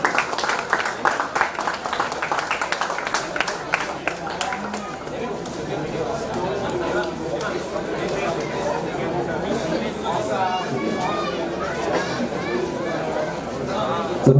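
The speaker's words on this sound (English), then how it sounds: "can we give the HNB team a very big round of applause" A crowd claps and cheers in a sustained burst of applause, loud and steady throughout, with murmuring voices mixed in.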